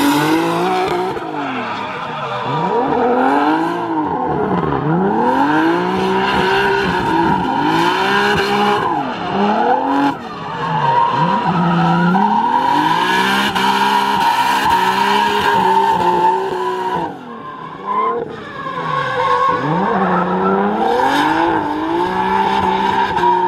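Drift cars on a test day run tandem, engines screaming up and down through revs while tires squeal and skid almost without pause, loud and close for the whole stretch.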